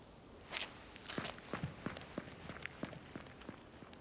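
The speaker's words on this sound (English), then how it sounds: "You literally hear Thomas Orozco's footsteps start approaching." Footsteps of the character Thomas Orozco approach in the Silent Hill 2 Remake video game: a steady run of about a dozen firm, evenly spaced steps, fairly close and clear, with no voices over them.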